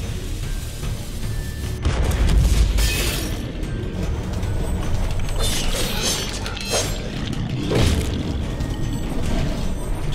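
Heavy cannon booms and rumbling blasts erupt amid mechanical clatter in the video game Alice: Madness Returns, with a couple of louder explosions standing out, no speech.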